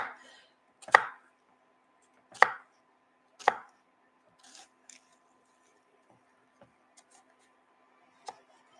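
A knife chopping an onion on a cutting board, three sharp solid chops followed by a few lighter, scattered taps with quiet gaps between them and no voices.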